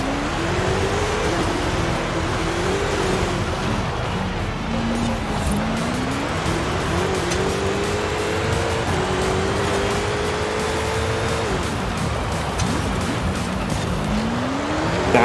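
Off-road DeLorean with a roughly 1000 to 1200 horsepower build, its engine revving up and down through gear shifts and tire noise under sustained loud driving, close and continuous.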